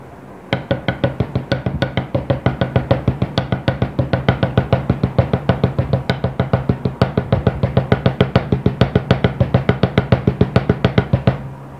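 Rapid, even double paradiddle sticking on a practice pad, a fast continuous stream of sharp taps with slight accents, close and loud.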